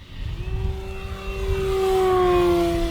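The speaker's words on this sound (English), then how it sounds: "let's do a nice full throttle pass here" An E-Flite Extra 300 electric RC aerobatic plane makes a full-throttle pass, its propeller whine rising steadily in pitch and growing louder as it approaches, with no voices.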